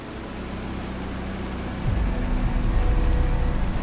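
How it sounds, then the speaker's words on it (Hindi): Heavy rain pours steadily, then a deep low rumble of distant thunder swells and lingers under the downpour, with no voices. "तेज रफ्तार में अचानक बारिश की आवाज और दूर कहीं बिजली की गूंज"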